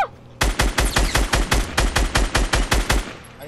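Gunfire in the video game Fortnite rattles out as a rapid, evenly spaced burst of about a dozen loud, punchy shots over roughly three seconds, close and alone without voices.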